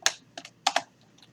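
Keystrokes on a computer keyboard while entering script code, four or five quick clicks in two pairs with a couple of softer taps after, close and clear with no talking.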